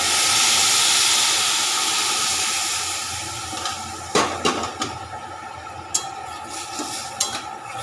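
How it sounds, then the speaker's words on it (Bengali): Milk poured into a pan of sizzling fried bitter gourd, eggplant and potato, a steady frying hiss that settles and softens, followed by a few sharp stirring clinks and scrapes of a utensil against the pan. "এবার আমি দুধ দিয়ে দিচ্ছি।"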